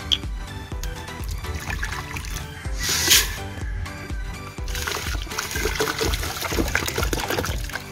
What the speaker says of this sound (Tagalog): Okay, ito pong isang 500 ml natin na tubig. Diretso na natin dito yan.